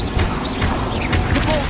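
A short burst of Incendio fire magic in Hogwarts Legacy, loud and close, with crashing, whooshing impacts layered over game noise and a brief voice.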